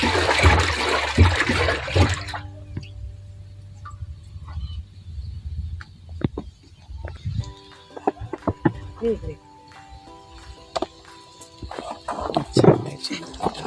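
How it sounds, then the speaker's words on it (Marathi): Pesticide and fungicide are mixed into water to make a solution for treating turmeric seed before planting. A burst of sloshing, splashing water opens the clip, followed by sparse knocks and handling noises. "ते आता चांगलं व्यवस्थित प्रकारे पाण्यामध्ये मिक्स करून घ्यायचं आहे"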